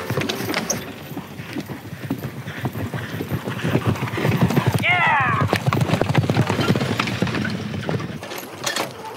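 A four-in-hand team of Friesian horses pulls a carriage at a driving event, hooves clip-clopping in a steady rhythm with rattling harness and a short whinny midway, under a narrating voice.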